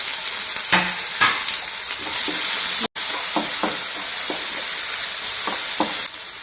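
Chopped tomato frying in oil in a pan for Mangalore-style chicken sukka, a steady close sizzle broken by repeated spoon stirs and scrapes, with a brief gap near the middle and no talking.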